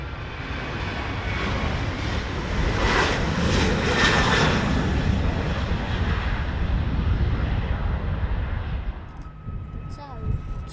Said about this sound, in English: We've got Transavia's Boeing 737, a that's the Amsterdam to Amman flight.